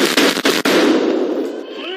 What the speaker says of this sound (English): As they move upstairs, they hear the same gunshots.